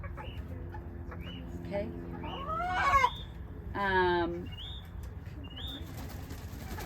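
Chickens, including a larger bird, cluck and squawk while being held on a ranch, with a couple of loud calls and a burst of wing flapping, close by over background bird chatter and brief speech.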